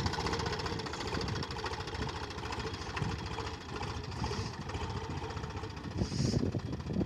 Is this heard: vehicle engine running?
yes